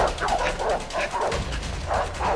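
Dogs bark while giving chase in the video game A Way Out, a series of close, fairly loud yelps and barks in an uneven rhythm, with no clear talking.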